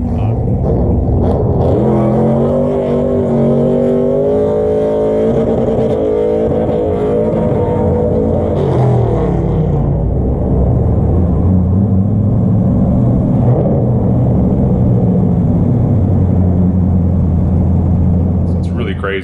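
A Pontiac WS6 with an extremely loud exhaust that sounds almost like open headers rumbles and revs up hard nearby, its deep, raw engine roar steady and overpowering throughout.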